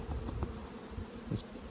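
A low, continuous drone of Buckfast honey bees fills the air at an open hive being inspected, close and soft, with a couple of faint knocks and no voices.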